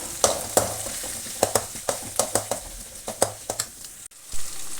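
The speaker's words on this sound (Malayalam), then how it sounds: "നമുക്ക് കുറച്ച് കറിവേപ്പില ഇട്ട് കൊടുക്കാം, പച്ചമുളകും ഇട്ട് കൊടുക്കാം, 2 പച്ചമുളകും നന്നായി ഇളക്കുക." Curry leaves and two green chillies fry for a chicken curry, with a steady sizzle under a series of sharp, rhythmic scraping strokes of a spoon stirring the pan, about a dozen close knocks, and no speech.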